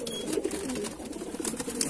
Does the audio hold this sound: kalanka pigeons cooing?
yes